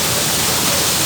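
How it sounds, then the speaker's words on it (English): Steady, loud broadband rush of a waterfall, continuous and even throughout with no voices over it. "my goal is to go to a place that has waterfalls like this"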